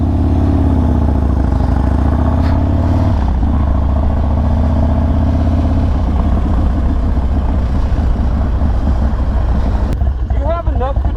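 A Harley-Davidson Dyna motorcycle rumbles along with a loud, deep, lumpy engine note and shifting throttle. Wind buffets the ride, and voices talk over the engine throughout.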